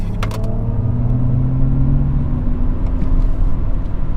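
Mercedes EQS 580 electric car accelerating on the road, a steady loud low rumble of road and tyre noise with a faint rising whir, heard from inside the cabin with no talk.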